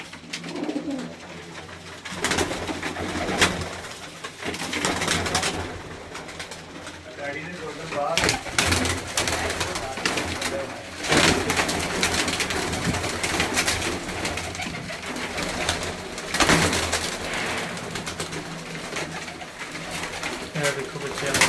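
Pigeons coo steadily on a rooftop in Gujranwala, a dense, continuous layer of soft calls from several birds close by, with faint voices underneath.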